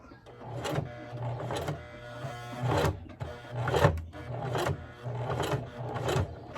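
Sewing machine stitching a pleated skirt waistband, running in repeated short bursts with brief pauses, close and clear, without talk.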